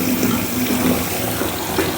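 Fuchsia-pink bath bomb fizzing and spraying in a filled bathtub, a steady close hiss of water and bubbling that runs continuously with small swells and no voices.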